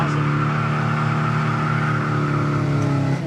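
A 1970 Chevelle SS 454 big block pulls hard in first gear from a roll, its loud deep engine roar and rising harmonic drone heard from inside, steady and close without talk.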